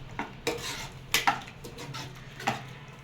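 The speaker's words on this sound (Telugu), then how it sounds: "ఇప్పుడు దీన్ని వేరే గిన్నెలోకి మార్చుకుందామండి" Gongura and drumstick-leaf dal is moved into another vessel, heard as a handful of sharp metallic clinks and scrapes of a spoon against steel pots, spaced irregularly and close by.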